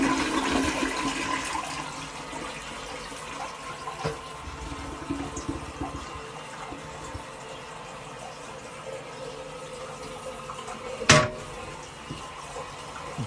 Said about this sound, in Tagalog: tingnan niyo guys, may lalabas na tubig sa gripo